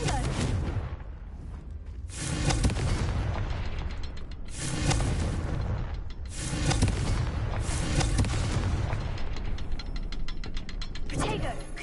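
Repeated Confringo fire spell blasts in the video game Hogwarts Legacy, several loud bursts going off at intervals with crackling, mechanical-sounding rumble between them.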